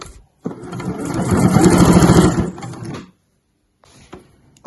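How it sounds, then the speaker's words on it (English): A sewing machine runs a short back stitch along the base of a fabric weekender bag, one steady loud burst of needle chatter lasting about two and a half seconds, then quiet with a faint rustle of handling. "so I do a wee back stitch"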